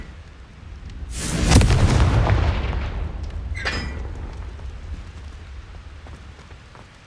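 A Confringo spell explosion in the Hogwarts Legacy video game: a loud, deep booming blast that rumbles for about a second, followed by a sharper secondary crack, then a fading rumbling tail, with no voices.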